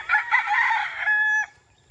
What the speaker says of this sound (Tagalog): gusto ko ipakita ang munting manukan ko na